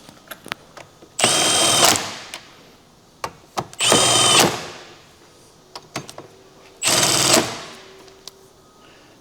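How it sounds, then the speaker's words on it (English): A power tool runs bolts into a D-series gearbox during a transmission upgrade, whirring in three loud, close bursts of about a second each. Clinks and handling noises fill the pauses between them. "Now we just go around tightening all the bolts."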